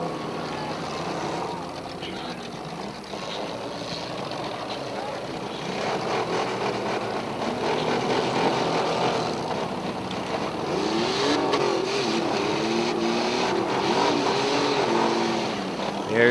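Four-cylinder demolition derby cars at an outdoor speedway roar and rev continuously, with engines straining and occasional metallic knocks of crashing over a steady loud din, while an announcer's voice runs underneath.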